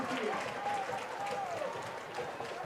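Crowd at a Thomas Jefferson high school football playoff game against Aliquippa applauding and cheering, a steady broad roar of clapping from the stands with a whistle-like tone and voices mixed in throughout.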